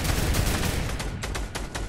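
Rapid bursts of gunfire in the video game Fortnite, aimed at trees, crack out in quick, uneven volleys across the whole stretch, fairly close and without talk.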